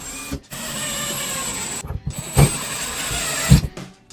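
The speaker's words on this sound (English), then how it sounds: "I'm going to put screws above and below" A power drill driving screws into drywall above and below a nail pop, with a whirring motor run that stops, then short bursts and thuds as the screws seat, loud and close.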